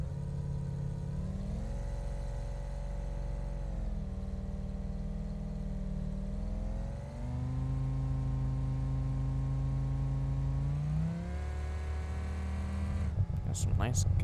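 Ford V10 Triton truck engine in a driving video game, a steady loud drone that rises and falls through several rev changes as it pulls a car-hauling trailer, alone without talk.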